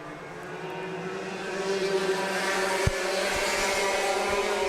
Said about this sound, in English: And we're racing. Already fanning out here as they come into turn 1.